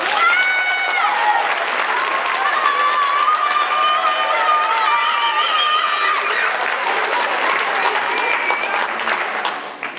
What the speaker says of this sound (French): Je vous demande d'accueillir et d'applaudir très fort